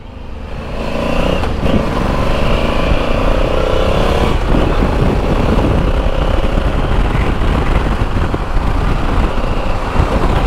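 A brand-new Honda Africa Twin motorcycle pulls away and accelerates hard through its gears, the engine note loud, rising and steady for about ten seconds with wind noise and no talk.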